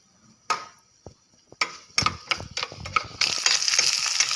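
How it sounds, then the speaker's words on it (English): Mustard seeds, black gram and fenugreek hit hot oil, giving sharp, irregular pops and crackles that build into a busy, close sizzle by the end. "Now in the oil, put some mustards and black gram and fry it."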